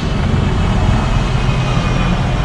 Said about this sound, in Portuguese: Carro.